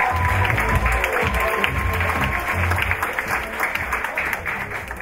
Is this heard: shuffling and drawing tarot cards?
no